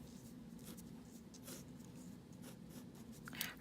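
A pen drags across graph paper, joining plotted points into a right triangle with a few soft scratchy strokes, faint and close.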